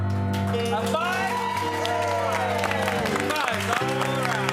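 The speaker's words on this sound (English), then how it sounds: "Now this is by applause." A live game-show audience applauds and cheers to rate a game, with clapping, shouts and whoops mixed under a loud voice talking over a hall sound system.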